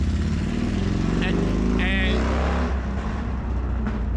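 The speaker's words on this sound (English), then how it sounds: "I'm allow that motorcycle to go by because I'm gonna be screaming over it" A motorcycle rolls by on a Philadelphia city street with a loud, steady low engine rumble that holds across the moment, while someone talks over it.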